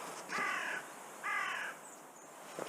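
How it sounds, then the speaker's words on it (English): A crow at a Bristol allotment in November gives two loud, harsh caws, each about half a second long, close by and alone against quiet outdoor air. "Thank you, Mr. Crow"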